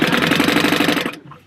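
A sewing machine stitches cotton woven lining fabric at a 2.5 stitch length, fast loud rhythmic needle pulses close by, running for about a second before stopping abruptly.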